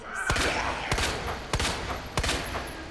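Acid rounds fired in Resident Evil 2 ring out as four loud, evenly spaced gunshots about two-thirds of a second apart, each a sharp crack with a short ringing tail over a steady game background.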